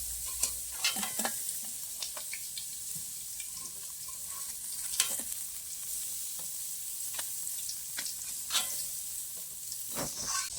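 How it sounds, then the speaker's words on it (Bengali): Bata river fish shallow-frying in oil one piece at a time, a continuous bright sizzle with intermittent spatula scrapes and small spits, close and moderately loud, with no talking. "এইভাবে এক এক করে সব মাছগুলো ভেজে নেব।"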